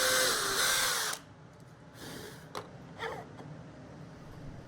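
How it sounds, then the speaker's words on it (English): A power drill bores a 5/16 inch hole into a small portable wooden workbench, a loud steady whir for about a second, then stops, followed by a few faint creaks and taps. "I did have to drill a larger 5/16 inch hole for this."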